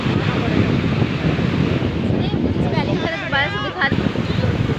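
Sea waves rolling in at Manora beach, a constant loud roar of surf mixed with wind buffeting the microphone, while people talk faintly in the background.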